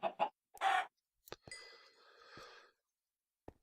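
Chickens clucking in the blocky farming game Agrarian Skies, several short clucks and squawks in quick bursts, then a longer, steadier chatter of fowl, ending with a single faint click.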